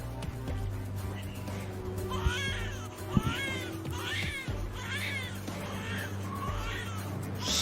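A bulbul calls repeatedly in a series of short, bright chirping notes at a steady rhythm, fairly close, over a low background hum.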